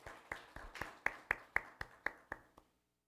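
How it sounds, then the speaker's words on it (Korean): Clapping from a church congregation during a Wednesday worship service, heard as about eleven evenly spaced sharp claps over three seconds, fairly faint and with no voices. "하나님께 감사와 영광의 박수 올려드리도록 하겠습니다."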